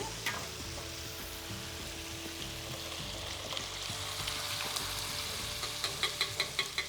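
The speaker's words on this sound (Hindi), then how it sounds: "अब दाल डाल देवा, खूब अच्छी खुशबू आ रही है।" Dal frying and sizzling in a pan for Rajasthani panchmel dal, with a steady crackling hiss throughout and a few sharper stirring clinks near the end, no talk.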